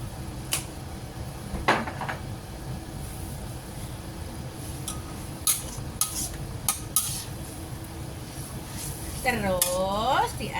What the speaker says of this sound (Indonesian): Terus diaduk-aduk biar bumbunya merata.